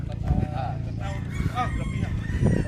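Rooster crowing at a gamefowl farm, the call rising over steady background noise with people talking nearby.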